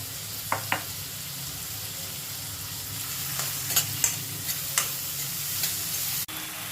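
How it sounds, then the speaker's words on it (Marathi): Chopped garlic and onion with salt sautéing in a pan, a low, even sizzle with a few soft scrapes and taps of the stirring spoon, close but fairly quiet. "बारीक चिरलेली लसूण आणि कांदा. आता यात मीठ घालून परतून घ्यायचं आहे"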